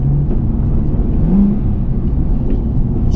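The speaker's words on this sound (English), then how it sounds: "The downshifts sound insane." A twin-turbo Nissan 370Z NISMO rumbles steadily from close by, engine droning under load with a brief rise in revs, consistent with a rev-matched downshift.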